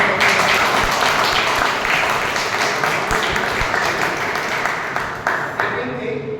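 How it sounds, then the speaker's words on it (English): Toastmasters meeting audience applauding new members, a room of people clapping steadily, strong at first and gradually thinning out, with some voices mixed in. "Can we have a round of applause?"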